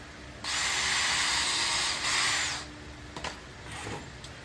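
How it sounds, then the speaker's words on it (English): A power drill bores into treated wood for an outdoor porch chair, one sustained whirring burst of about two seconds followed by a few short clicks and a brief second run. "I need to drill them in at about a 15-degree angle"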